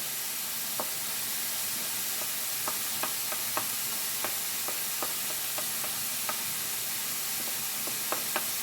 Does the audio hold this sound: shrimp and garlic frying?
yes